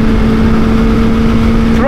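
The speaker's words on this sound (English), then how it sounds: "Drop it down to third here. Keep the revs up a little bit." A single Kawasaki Ninja H2 sport motorcycle engine hums steadily at a constant pitch, holding revs without a clear downshift, close and loud.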